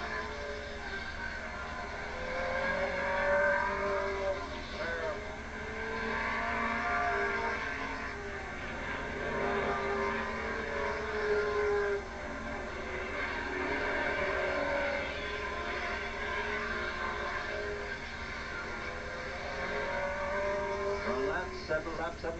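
Race cars circling Bridgecity Speedway during a 1986 race, a continuous rumbling engine drone that swells and fades as cars pass, heard under steady commentary on a dull, lo-fi recording.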